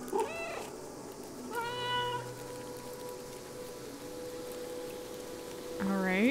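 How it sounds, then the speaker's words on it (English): Cats meow in the video game Stray, with several distinct rising meows separated by pauses over steady rain-like ambience. "Press O to meow."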